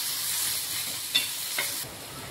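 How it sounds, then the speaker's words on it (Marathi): Tomatoes sizzle softly on a hot tava, a quiet steady frying hiss with a couple of brief scraping stirs near the middle before the sound drops lower. "आता त्याच तव्यावर आपल्याला टोमॅटो टाकून घ्यायचे"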